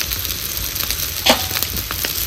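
Onion-garlic masala roasting in a pan for chicken curry, heard as a continuous soft sizzle up close with a brief scrape or clatter near the middle and no speech.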